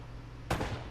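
A single sharp gunshot rings out in the video game Uncharted: Drake's Fortune on PS4, loud and abrupt against a quiet game background.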